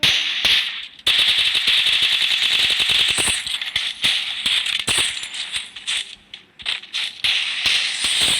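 Gunfire in the mobile shooter Free Fire crackles in rapid bursts of sharp shots with brief gaps between volleys, loud and close, with no voices.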